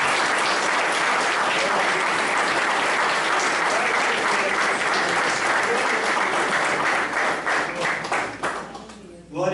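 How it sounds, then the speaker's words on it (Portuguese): Church congregation applauding at a communion service, a loud, dense and sustained wash of clapping that carries on steadily before thinning out and dropping away at the very end. "Vamos dar uma salva de palmas para Jesus"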